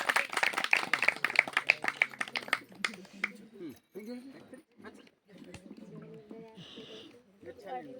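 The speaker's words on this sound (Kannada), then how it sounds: "ಚಪ್ಪಾಳೆ ಚಪ್ಪಾಳೆ ತಟ್ರಿಗೆ" Children clapping their hands at a school awards gathering, a quick run of sharp rhythmic claps at first that gives way to talking and scattered sounds.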